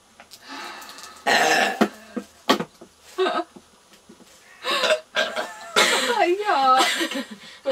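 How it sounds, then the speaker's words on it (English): A bubbly burp after a swig of Irn Bru during a burping contest: several loud, close guttural bursts, ending in a long, wavering, drawn-out belch. "That was an Irn Bru bubbly burp."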